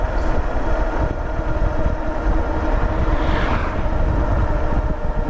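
A Wildeway Wander dual-motor 2600W e-bike climbs a hill on full throttle, a steady, loud wind-buffeted whir with road rumble that holds without a break, no voices over it.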